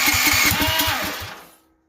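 A Duromax 440cc engine cranked with some throttle and no choke, giving a quick run of rhythmic low chugging pulses that sputter and die away within about two seconds.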